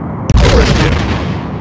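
A torpedo launches in a Star Trek: The Next Generation – A Final Unity computer game, a sudden loud boom that opens into a sustained, rumbling whoosh.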